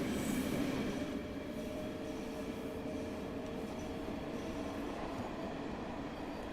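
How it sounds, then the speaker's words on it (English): An M7 commuter train passes in the Train Sim World 6 game on the New York to Stamford line, a faint, steady rumble of wheels on rail with light squeal tones and no speech. "That's another train somewhere. Oh, it's an M7."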